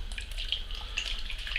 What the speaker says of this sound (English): just watch me pour just the juice now